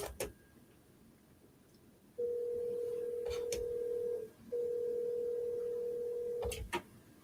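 Telephone dialing and line tones on a radio show's call-in phone line: a steady tone sounds for about two seconds, cuts briefly, then resumes, with short clicks and beeps around it, fairly faint and with no talk.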